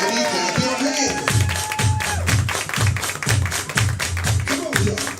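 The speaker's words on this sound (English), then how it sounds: "Everybody clap your hands." Audience clapping hands in unison at a live main event show, steady rhythmic claps in a regular beat, loud and close, with crowd noise underneath.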